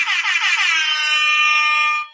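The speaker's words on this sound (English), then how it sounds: "Time for the air horn for Natalie again" Air horn blasts once for a geography quiz winner: a loud, sustained, bright tone about two seconds long, slightly wavering at the start, then steady until it cuts off, with no talking.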